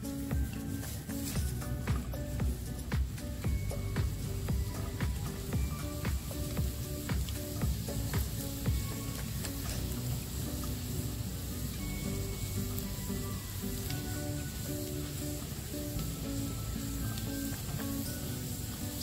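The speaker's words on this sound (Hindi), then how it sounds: "अब पैन में 2 टेबलस्पून फुल ऑयल डालकर इसमें 1 टीस्पून लहसुन चॉप डाल दीजिए और इसको सौते कर लीजिए" A teaspoon of chopped garlic sautés in two tablespoons of oil in a pan for chicken egg fried rice, giving a steady, close, crackling sizzle that continues evenly throughout with no talking.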